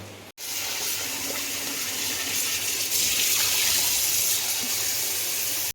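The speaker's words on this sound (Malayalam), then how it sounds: "ഉള്ളി കഴുകാൻ പോവാ അല്ലേ?" Small onions rinsed under running tap water in a home kitchen, a steady close gush of flowing water and splashing that fills nearly the whole stretch with only a brief break near the start.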